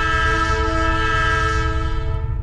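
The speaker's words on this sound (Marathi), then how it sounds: "त्यांनी लगेच रेल्वेचं हॉर्न होतो तो मोठ्यानं वाजव घेतल्याने" A loud, sustained train horn blasts continuously with a steady tone, presented as a sound effect with no voices.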